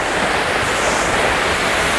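A constant, loud roar of rushing water from a waterfall near Pakse in southern Laos, dense and hissing, with no breaks or voices, as if standing close to the falling water.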